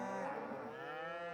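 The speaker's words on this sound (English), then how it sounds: "moo indeed" Cows in the Farming Simulator 25 video game give a long, clear moo with a steady pitched tone that slowly drifts, heard alone and moderately loud with no talk over it.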